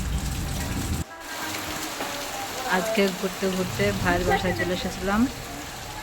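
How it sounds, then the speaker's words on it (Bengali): Heavy monsoon rain in Rajshahi, a steady hiss of downpour on surfaces heard close throughout while someone talks over it; no clear thunder stands out. "আজকে অনেক বৃষ্টি হচ্ছে আর অনেক জোরে জোরে বিদ্যুৎ চমকাচ্ছে।"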